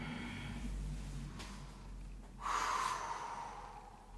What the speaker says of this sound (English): Deep Ujjayi breathing.